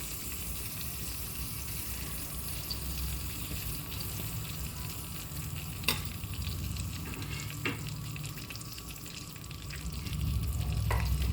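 Seven or eight peeled, finely chopped garlic cloves fry in a pan with curry leaves, giving a constant close sizzle broken by a few sharp clinks of stirring.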